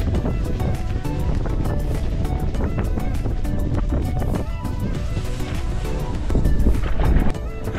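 Moderate wind buffeting hiking tents pitched outdoors at sunset, a steady loud roar with flapping and gusty rushes throughout, growing stronger near the end.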